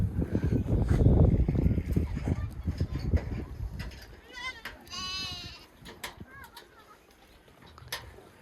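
Sheep on a herder's holding bleat a few times midway, wavering calls standing out over a noisy, busy background with low rumble and scattered sounds.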